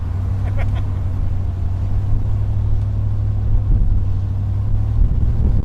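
A steady, loud low rumble of classic hot rods and roadsters such as a Model A and '32 Roadster cruising together, engines droning continuously up close with no clear revving peaks.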